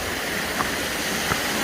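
Small waterfall on Kent Brook along the Appalachian Trail, a steady broadband rush of falling water heard close and continuous, with no voices over it.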